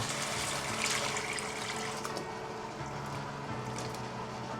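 Water pours steadily from a tap into a pot of lemongrass soup being prepared in a home kitchen, a continuous splashing rush that fills the whole stretch without talk.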